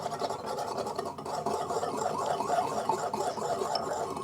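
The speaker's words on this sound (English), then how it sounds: "Just going to whisk that together." Whisking sesame oil and sugar into a salad dressing in a bowl, a soft, steady scraping and rasping of the whisk that continues without pause, close but quiet.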